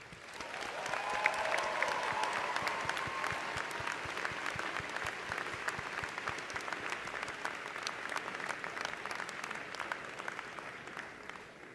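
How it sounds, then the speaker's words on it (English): A sustained round of clapping from the crowd at a 2016 Elliott School commencement ceremony, soft and distant, with dense, irregular claps and a faint voice briefly heard early on. "please join me in a round of applause to thank your families and friends who are here with us today"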